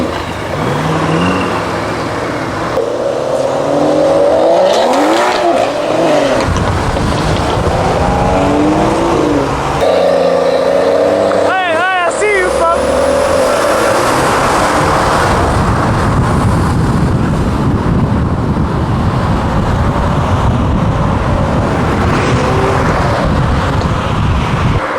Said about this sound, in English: that was a bit of a quick drive down the motorway